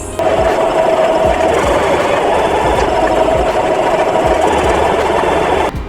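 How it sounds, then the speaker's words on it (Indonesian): An electric sewing machine stitches the top handle of a fabric bunny-style bag, its rapid needle chatter running continuously and loudly, close up, before stopping abruptly at the end. "Selanjutnya kita akan menjahit bagian pegangan atas."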